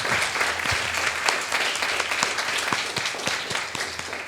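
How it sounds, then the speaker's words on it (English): Audience applause for guest speakers and the chair at an evening talk on veganism, a dense steady clapping that fills the room at moderate loudness for several seconds, with no voices over it. "Please join me in a big round of applause"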